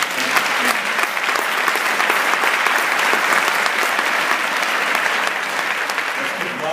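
An audience at a community empowerment summit claps in a dense, sustained round of applause that stays loud and even throughout, with no voice standing out over it.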